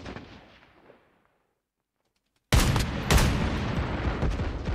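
Bomb blasts and heavy gunfire in Call of Duty Mobile on an arctic map: faint distant firing fades into near silence, then a sudden loud explosion gives way to dense, sustained volleys of shots.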